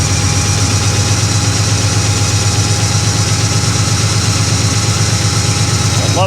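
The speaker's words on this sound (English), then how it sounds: "So it brought the idle up as I leaned it out." A 1957 Chevy Bel Air engine idles close by at around 900 rpm, a loud, steady, even rumble with a regular low pulse throughout.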